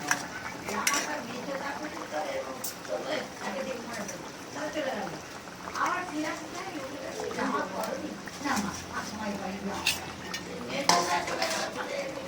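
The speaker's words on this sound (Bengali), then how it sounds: "ঢাকা খুলে মাছগুলো দিয়ে দিই, ভাজা মাছগুলো দিয়ে দিই।" Fried fish pieces clink and scrape in a metal pot of simmering curry with utensil taps and a faint simmering hiss, while a person talks throughout.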